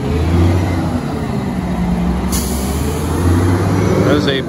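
Big rig logging truck engine rumbling loud and close, with a sharp hiss partway through and a steady heavy low drone throughout.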